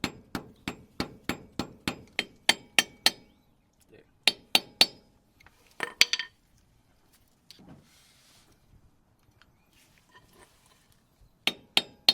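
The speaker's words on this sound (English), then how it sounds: "if you keep hammering it, you're actually just going to be bending the cap" Sharp metallic hammer strikes on a metal cap going onto a Toyota Tacoma CV axle ring out in a quick steady series, pause, then return in shorter bursts, with a few scrapes and light clinks between.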